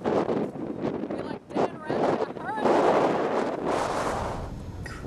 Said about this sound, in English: Crazy wind.